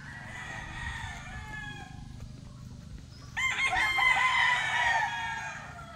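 A rooster on a rooster farm crows loudly once, a long drawn-out call rising over a low background hum, with faint clucking before it.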